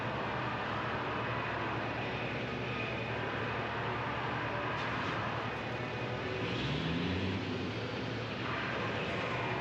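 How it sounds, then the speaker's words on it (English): Racing trucks at the Le Mans round of the 2021 FIA European Truck Racing Championship rev their engines on the starting grid, a dense, continuous roar of many engines with a rising pitch near the end. "Here now, revs rising, trucks ready to make their way around."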